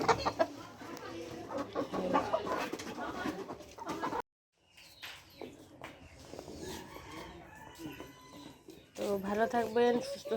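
Domestic chickens cluck and a rooster crows at dusk in a village yard after being fed and given a warming light, the calls mixed with a person talking nearby, a brief silent gap midway.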